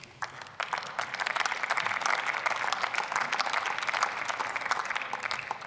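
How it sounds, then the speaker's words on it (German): During a parliamentary-style session on Deutsche Welle's task planning, an audience breaks into steady applause, which rises quickly and holds as a dense, even wash of many clapping hands. "Das verdient übrigens auch Applaus."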